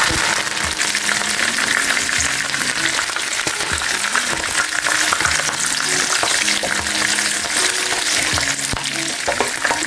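Green chillies and curry leaves sizzle and crackle steadily in hot oil while chilli beef is being made, a loud, dense, continuous frying hiss with occasional stirring clatter throughout.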